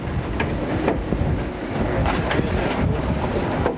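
Strong wind roars over an America's Cup racing yacht of the New Zealand team under sail in 1995, a steady loud rush with buffeting on the microphone and water wash beneath.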